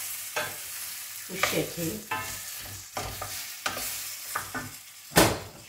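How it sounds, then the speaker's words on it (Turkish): Rice and zucchini being stirred in a pot for a Turkish zucchini dish: repeated scraping spoon strokes and light sizzling, close by, with a brief spoken phrase. "Güzelce şöyle iyice bir karıştırıyorum"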